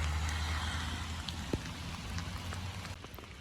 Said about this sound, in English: It's kind of trippy looking up at these giant drops falling off this tree.